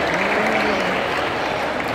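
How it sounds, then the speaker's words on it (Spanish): Audience applause for the jury members at a carnival murga contest in Arrecife, a dense, steady clatter of many hands close by through the whole moment, with no words spoken. "El aplauso que suene para los señores miembros del jurado."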